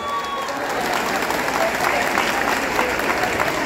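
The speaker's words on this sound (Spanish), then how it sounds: "Un aplauso bien bonito para ellas." Audience applause at a school mariachi performance, a loud, dense, steady clapping from a crowd that continues throughout, with a voice briefly audible under it.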